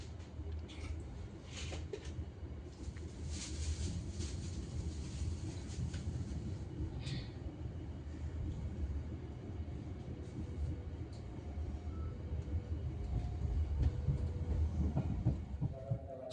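The Motis Lebaran Tengah train, pulled by a red-blue locomotive, arrives at Gombong station. Heavy rail rumble and wheel clatter roll on steadily at moderate level, swelling slightly toward the end.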